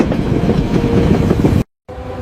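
Train running on rails in India, a steady loud rumble with rhythmic clatter close by, cut by a brief silent gap before the rolling continues.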